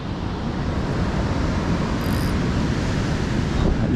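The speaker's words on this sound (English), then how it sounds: "as you can see, the surf's pretty big, and the wind's coming this way now" Big ocean swell in a brutal shorebreak, with wind blowing onshore: a continuous, loud wash of breaking surf and wind roar with no pauses.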